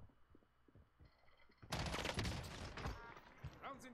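Incoming gunfire in the shooter Warzone: after a quiet stretch with a few faint taps, a loud burst of rapid shots and impacts hits, then thins into scattered lower cracks and rumble.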